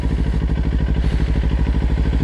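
A motorcycle idling and just beginning to creep forward at walking pace, its engine giving a steady, even low throb that stays close and loud throughout.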